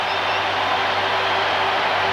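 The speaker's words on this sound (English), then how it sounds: "Oh, the crowd's back in the game." Crowd roar fills a baseball stadium during Game 2 of the 1990 World Series between Oakland and Cincinnati, a steady, dense wash of cheering that holds loud and unbroken throughout.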